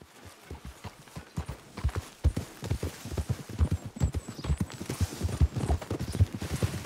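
A horse gallops in Red Dead Redemption 2, its hooves drumming a steady, fast, close clip-clop rhythm that keeps up throughout with no talking.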